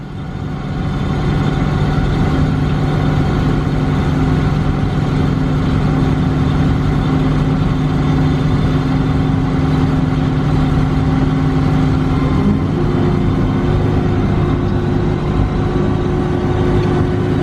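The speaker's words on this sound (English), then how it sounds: "See, and then it goes to a high idle." A John Deere 6.8 diesel idles steadily after a cold start, a loud close drone with a low hum that shifts pitch slightly near the end as it settles, no talking.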